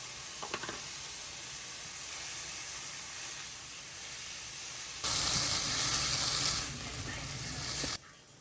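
Peas, carrots and pineapple sizzling in a pan for vegan fried rice, a steady soft hiss that briefly swells louder as more food hits the hot surface, then settles again.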